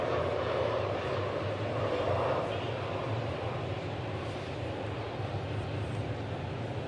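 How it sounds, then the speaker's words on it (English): A fixed-wing airplane passes over a baseball stadium during a Braves vs Mets game, a loud sustained engine roar and rumble that slowly fades slightly, under crowd ambience. "Airplanes bother you when you're playing here?"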